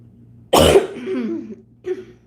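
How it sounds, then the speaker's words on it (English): A single close, harsh cough rings out, followed by a softer throaty exhale and a brief second cough, with no talking. "I'm coughing in your ear."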